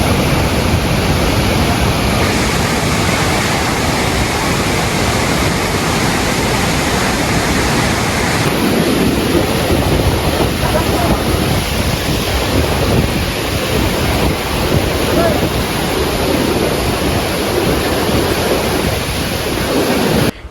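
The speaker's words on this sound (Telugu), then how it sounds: "వాటర్ ఫాల్ అయితే చాలా బాగుంది" Large waterfall in Andhra Pradesh, a loud, dense, continuous roar of falling water that stays steady throughout with no voices.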